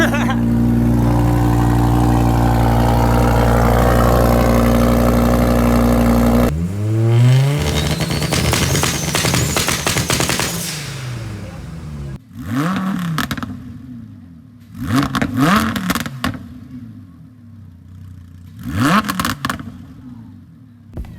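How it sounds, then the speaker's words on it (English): A car engine at a German car show fires on a cold start, holding a loud, high steady idle before dropping off, then several sharp revs rise and fall in bursts amid outdoor crowd noise. "I got a cold start."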